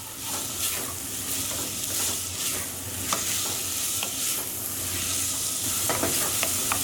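Onions fry in a pan over medium heat, a steady close sizzle broken by repeated scraping and tapping of a spoon as they are stirred.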